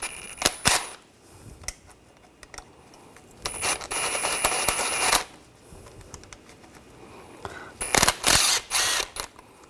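A wrench loosens a rear brake caliper bolt on a 2015-2020 Cadillac Escalade, giving short bursts of metallic clicking and scraping, close and fairly loud, separated by quieter gaps.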